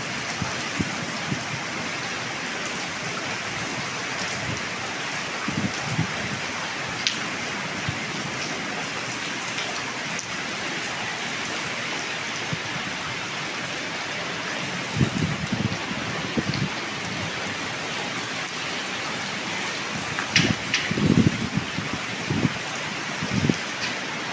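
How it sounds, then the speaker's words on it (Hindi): Heavy rain pours steadily over a Pakistani village, a dense continuous hiss with scattered louder drips and splashes close by, lasting throughout with no voices. "बारिश और शिदत अख्तियार कर गई है"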